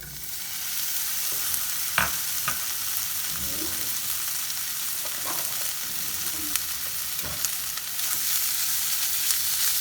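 A steak sears in a pan already used for peppers and onions, giving a steady, close sizzle throughout with a few sharp crackles and pops and occasional scraping from a utensil moving the meat.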